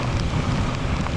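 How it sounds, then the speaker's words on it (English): Rain heard while riding a Kawasaki Ninja 650 motorcycle in wet weather, blending into a steady rushing wash of wind and spray with a low rumble underneath. "Riding in the rain."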